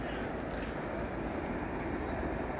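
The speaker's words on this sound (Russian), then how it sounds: "А там что за поезд?" A train passes by in a steady broadband rumble and rush of rolling wagons, even and continuous throughout, heard from beside the line with no voices.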